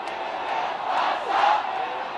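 A crowd of protesters gathers outside the Hong Kong police headquarters, a steady mass of voices that swells into shouting partway through, heard from a moderate distance.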